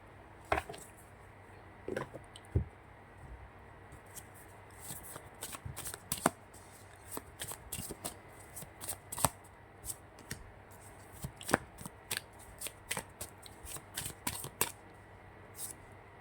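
An angel-themed tarot deck is shuffled by hand, producing repeated close, crisp riffles and card slaps in irregular bursts, with no talking over them.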